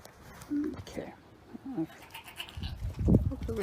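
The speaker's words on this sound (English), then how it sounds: "there's the goats" Goats on a farm bleat in short, wavering calls close by, mixed with a person talking to them over light outdoor background noise.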